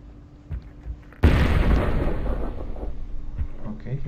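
A flashbang grenade bursts in CS:GO on the Dust 2 map with a sudden loud bang, followed by a long ringing, hissing wash that slowly fades over several seconds.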